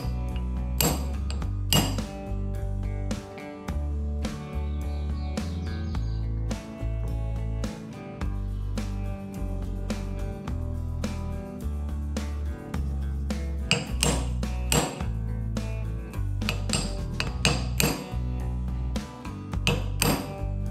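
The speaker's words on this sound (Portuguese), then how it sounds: "Aí eu vou batendo aqui devagarzinho para ver se ela finaliza de encaixar." Metal tool tapping a bearing gently into a car's steering lock housing, sharp repeated knocks and clinks of varying strength spread across the clip, close and loud.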